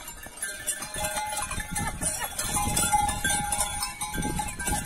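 A herd of goats and sheep roams the Brazilian northeastern backcountry, with scattered bleats and the clanking of bells rising and falling at mid-distance over open-air ambience, while a voice speaks briefly.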